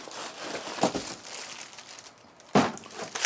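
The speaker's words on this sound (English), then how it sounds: "lift the plastic bag out of the box" Plastic bag crinkling as a Flashforge Adventurer 5M 3D printer is lifted out of its box, with soft rustling punctuated by two sharper, louder crackles close by.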